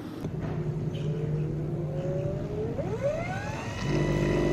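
A small DC motor runs flat out in a homemade invention, producing a steady close electric whine that rises sharply in pitch partway through and then settles into a higher sustained hum with overtones.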